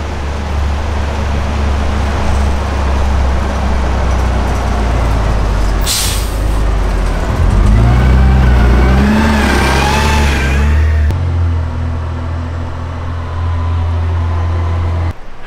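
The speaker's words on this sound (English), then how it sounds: "There's a bus coming!" A bus on a road in Zion National Park passes close by: the engine swells and revs, an air brake hisses sharply, then the engine rumbles on and fades.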